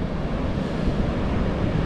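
Messy early-morning ocean surf at Jeffreys Bay, with two mixed swells, produces a steady, dense wash of breaking waves that goes on without a break, along with some wind rumble and no voices.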